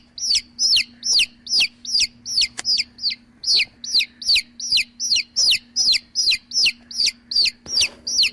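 Rapid, evenly spaced high chirping calls of chicks repeat about twice per second, steady and close, over a faint constant hum.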